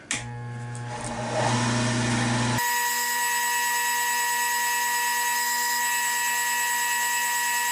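A wood lathe spins steadily as a wooden bottle stopper is sanded, a sustained mechanical whine and hum with a brief scratchy rasp of sandpaper early on, then an even machine drone alone.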